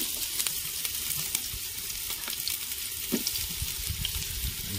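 Chicken fries in a hot pan for biryani, giving a steady, dense sizzle and crackle throughout with occasional faint stirring knocks and no voices.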